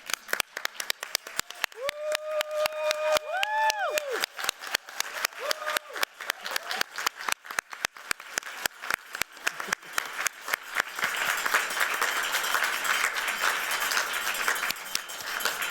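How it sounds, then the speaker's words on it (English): An audience at a Black in Design 2025 keynote gives a standing ovation, with dense, sustained clapping throughout, some tonal whoops early on and the applause swelling fuller toward the end. "Please join me in giving our fellow co-lead, Kiki Cooper, a standing ovation"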